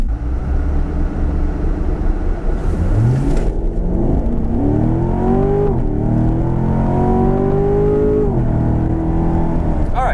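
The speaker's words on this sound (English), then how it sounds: "this time we're just gonna floor it wide open throttle" A 2015 Corvette C7 Stingray Z51 with an 8-speed automatic launches at wide open throttle, its engine note climbing loud and steady through rising revs with clear upshifts, close and continuous with no talk.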